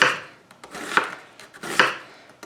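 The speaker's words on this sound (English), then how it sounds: "and then just slice them" A kitchen knife slicing halved onions into half circles on a cutting board, with three distinct rhythmic chopping strokes spaced nearly a second apart, close and crisp, with no talking.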